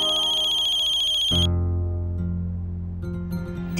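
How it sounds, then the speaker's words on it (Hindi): A phone ringtone plays steadily for an incoming call in a Hindi television drama scene, a bright electronic melody with sustained tones, clear and close, with no talking over it. "देवयानी बहन फोन कर रही है"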